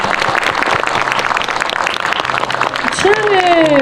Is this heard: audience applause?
yes